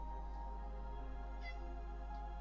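A cat in the Ultima 4 game meows faintly a couple of times, soft and distant over a steady low hum.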